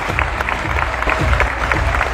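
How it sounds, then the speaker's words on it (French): Applause from the audience at the Miss Normandie 2020 pageant, a short burst of loud, dense clapping filling the hall, with a few voices faintly mixed in. "pouvez encore applaudir bien fort,"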